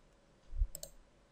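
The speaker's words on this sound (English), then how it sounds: "When you're finished, click OK." A single computer mouse click while setting up a group calendar in Microsoft Outlook 2013, a brief faint tap heard alone against a quiet background.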